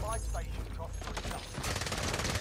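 Rapid gunfire in Call of Duty: Modern Warfare, a dense burst of automatic shots in the second half following scattered bangs and game noise, fairly quiet overall.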